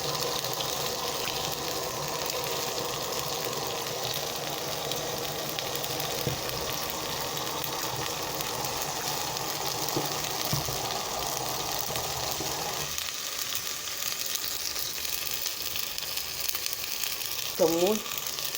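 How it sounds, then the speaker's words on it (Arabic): Vinegar sauce for Egyptian koshari boils hard in a pan, giving a constant sizzling hiss with soft bubbling pops, while someone talks quietly nearby. "سيبه يغلي كويس قوي كده"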